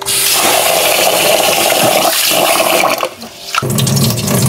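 Rinse water draining from washed basmati rice, a loud steady rush of pouring water close by that dips briefly near the end and resumes, alone without speech.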